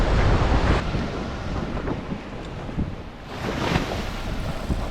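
Ocean waves and strong wind roar at a beach during a proa launch, a loud continuous wash of surf and gusting wind buffeting the microphone, with surges rising and falling and no voices.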